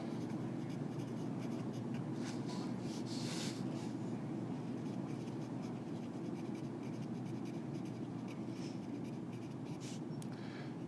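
Pen or marker scratching steadily on a board or paper while notes are written during a biology lecture, a continuous close scraping over a constant low hum.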